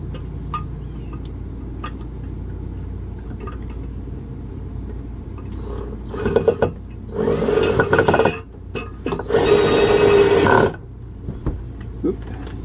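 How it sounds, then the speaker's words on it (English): A power drill bores holes in wood in two loud, steady bursts of a few seconds each, with faint handling clatter before and between them. "I put this one screw in to hold everything in place while I drill the other holes"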